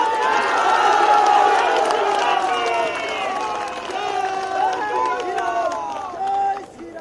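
A large crowd at a BJP political rally with Rajnath Singh applauds and cheers for army soldiers, a dense roar of clapping and raised voices that holds steady before briefly dipping near the end.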